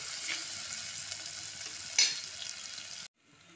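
Crushed ginger and garlic sautéing in a pan for a dried-prawn curry: steady close sizzling and frying with stirring scrapes and one louder burst, cutting off abruptly near the end.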